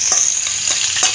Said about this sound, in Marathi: त्यामध्ये मी आता मोहरी घालते। आपली मोहरी तडतडल्यावर